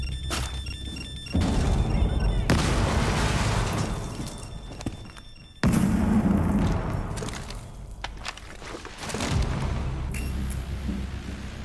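A C4 charge detonates in Rainbow Six Siege with a heavy, close blast. A second loud rumbling burst follows midway, and dull debris thuds trail off after each one.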